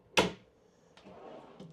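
A pull-out drawer slides open in the kitchen of a 2025 Wildwood Grand Lodge 42VERANDA RV, giving one sharp, close clack followed by a lighter knock and faint rustling.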